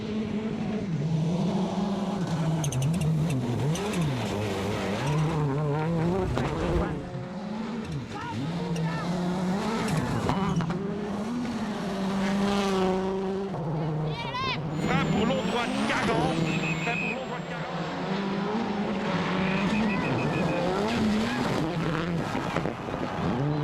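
A 2005 World Rally Championship car driven flat out, its engine note loud and close throughout, rising and falling through gear changes. A co-driver's voice calls pace notes over it.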